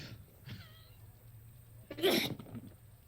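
A single close sneeze bursts out after a faint breathy intake and a brief squeaky vocal sound, set against quiet room hum.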